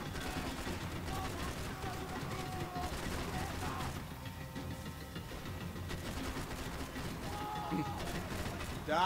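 Shotgun blasts and other gunfire in the action shooter Max Payne 3, a continuous busy battle mix with scattered heavy shots, someone speaking over it throughout.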